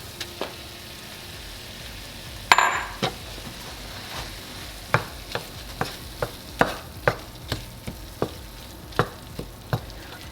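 A spoon scrapes and knocks through cooked acorn squash filling with rice and garlic in a pan, a steady light sizzle underneath and a string of sharp taps and clinks at an irregular rhythm, close and quiet, with no talk.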